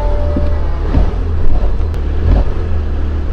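A car drives past at close range, a loud steady low engine rumble and road noise with slight swells, and no voices.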